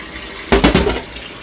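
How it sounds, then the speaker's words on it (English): Tap water splashing briefly over the outside of a cooking pot at a kitchen sink, a short loud gush of about half a second that then cuts off into quiet room tone. "just run a little bit of water on the outside, get rid of anything that might be stuck there"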